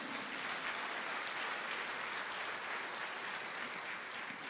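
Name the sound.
congregation applauding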